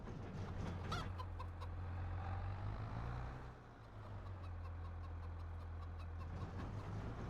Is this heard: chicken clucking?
yes